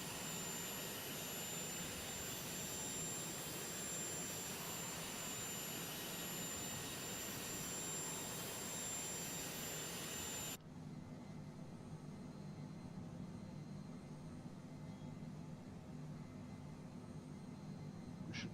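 Simulated jet engine of a Phenom 100 in Flight Simulator 2020, a steady loud whine and roar that drops abruptly partway through to a quieter, duller hum.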